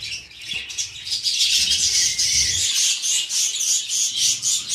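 Budgerigar chicks and adult parakeets chirp and chatter in an aviary, a dense run of rapid high tweets and squawks that carries on steadily throughout.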